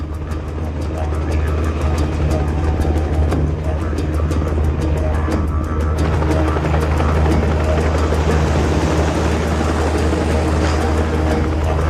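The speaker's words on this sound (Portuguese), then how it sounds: "Os cowboys utilizam helicóptero para empurrar as vacas." Helicopter flying low over an Australian cattle ranch, its steady rotor thrum and engine drone continuous and loud throughout, with no speech.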